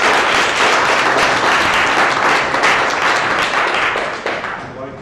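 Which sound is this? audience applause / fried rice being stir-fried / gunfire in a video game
audience applause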